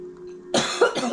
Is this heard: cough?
yes